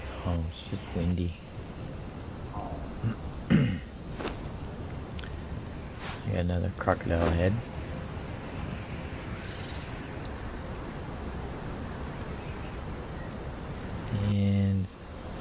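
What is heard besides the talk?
wind in the video game Conan Exiles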